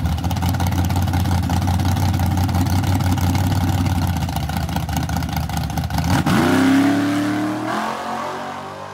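A Chevrolet Vega drag car on big tires idles loudly at the strip, then its engine roars up in a rising, sustained run down the track that fades away toward the end.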